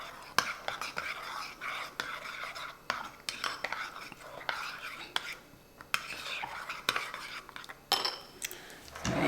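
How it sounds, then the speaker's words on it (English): A spoon stirs a freshly made strawberries and cream drink in a cup, giving repeated sharp clinks and scraping taps at an uneven rhythm, close and fairly quiet, with faint whispery background sound. "Mix it up real good."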